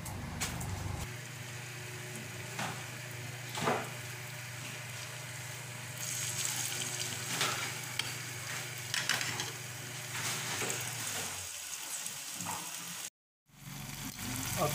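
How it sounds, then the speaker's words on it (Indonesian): Sambal stirred and refried in a pan gives a quiet, steady sizzle with occasional scraping clicks of the utensil, continuous throughout and ending in a brief dropout near the close. "Ke penggorengan lagi kita masak lagi agar awet, bisa tahan sampai 1-2 bulan."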